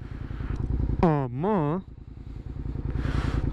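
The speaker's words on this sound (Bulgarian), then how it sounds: "Малко тихичко сравнен с стария мотор той гарни." A motorcycle engine runs at a steady idle with a throbbing low rumble, quieter than an older bike, while a voice speaks briefly over it and a short tonal whine sweeps up and down mid-way.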